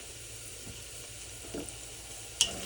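Onions fry in a pan for spaghetti and meatballs, a faint, low sizzle broken by a few soft stirring clinks.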